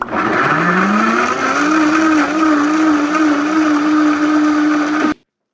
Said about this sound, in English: add a few ice cubes, pop on the lid, and blend it until smooth